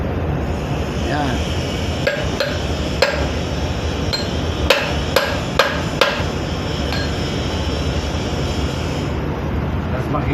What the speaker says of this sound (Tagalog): lupit na martilyo ah